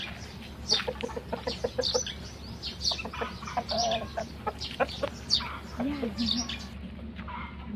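Fighting roosters at a cockfighting ring cluck and squawk in short, repeated bursts, fairly close, with scattered chirps and a low background hum throughout.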